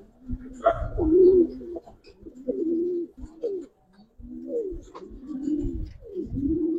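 Silver Gribaz pigeons coo close by, giving a series of soft, throaty, rolling calls that repeat in uneven phrases with short pauses between them.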